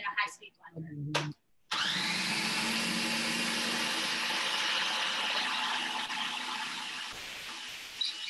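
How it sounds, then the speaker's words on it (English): A high-speed blender processing a thick, sticky mixture starts with a sudden roar and keeps a loud, steady motor whine for several seconds. A voice is heard briefly before the motor starts. "It might over process, might overload the motor in a high-speed blender."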